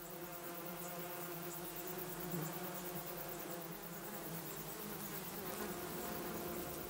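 Bees fill a hive with a continuous dense hum, a close, steady buzz from thousands of workers tending eggs in the comb cells.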